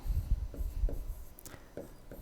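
Marker or chalk strokes on a board during a trigonometry lesson, several short scratchy strokes in an uneven rhythm, close and fairly quiet with no talking.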